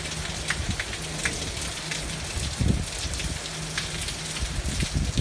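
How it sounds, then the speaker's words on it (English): Steady rain falls during a storm with lightning, a constant close patter and hiss on surfaces, with a few louder drips and thuds and no talking. "Other places have already got rain, but we just got our rain not too long ago."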